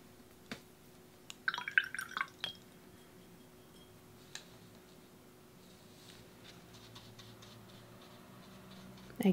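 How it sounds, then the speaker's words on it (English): A paint brush is rinsed in a water jar during a watercolour colour theory demonstration, giving a short burst of clinking, trickling water and taps against the glass, followed by quiet. "Again, washing out the brush, adding more water"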